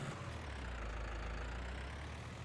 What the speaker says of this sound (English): the little tractor's really tearing through